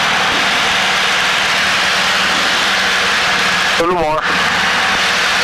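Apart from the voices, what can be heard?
small aircraft engine losing RPM as mixture is leaned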